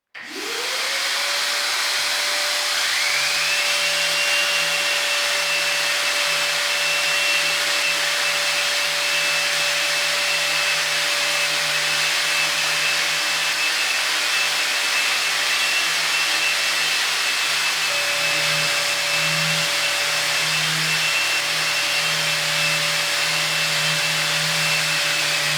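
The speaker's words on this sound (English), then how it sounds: "palm sander, vacuum cleaner to suck up all the dust" A palm sander runs with a vacuum cleaner attached, sucking up plaster dust in a Victorian house, a loud steady whine and drone that holds unbroken and close throughout, with a slight shift in pitch toward the end.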